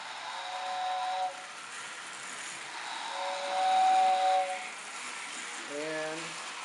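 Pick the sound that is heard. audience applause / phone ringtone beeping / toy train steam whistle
toy train steam whistle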